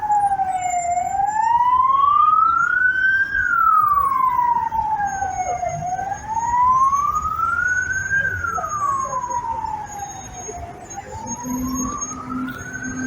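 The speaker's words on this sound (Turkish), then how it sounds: "Ambulans." An ambulance siren wails, rising and falling in slow, steady sweeps, loud and close, over the rumble of holiday road traffic at Bursa bus terminal.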